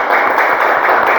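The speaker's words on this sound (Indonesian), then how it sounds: "tepuk tangan untuk kelompok 2" A fourth-grade class applauds together in a short, dense burst of clapping that fills a classroom, steady and fairly loud throughout.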